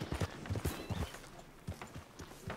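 Horse hooves clip-clop in the video game Red Dead Redemption 2, a few uneven hoofbeats at walking pace, fairly close, with faint game ambience around them and no talk over them.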